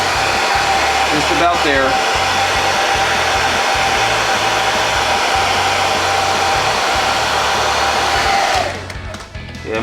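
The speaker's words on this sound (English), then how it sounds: "So I recommend using the hair dryer." A hair dryer blows with a loud, steady whooshing hum close by, softening damaged car bodywork. A person says a few words over it before the airflow drops away.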